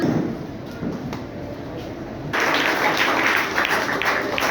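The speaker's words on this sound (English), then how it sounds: "Give a huge round of applause" Applause from an audience at a school prize ceremony, moderately loud and steady, swelling noticeably partway through as more people join in.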